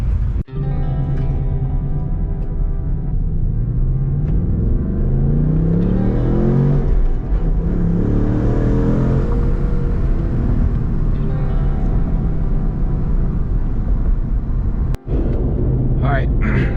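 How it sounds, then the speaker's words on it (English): A 2024 Ford Mustang GT cruises on a city road at night with a steady engine rumble and some rising acceleration in the middle. Someone talks over the drone throughout. "let's go ahead and POV drive back home"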